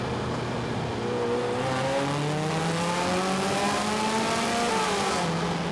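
Ferrari 328 engine revving hard past 5,000 rpm, loud and continuous with rising and falling harmonic tones as it climbs through the revs, with no talk.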